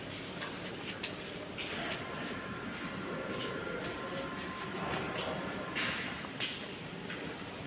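A metro train rumbles through an underground station in Romania, a steady loud roar with rushing air and faint rail clatter filling the whole stretch.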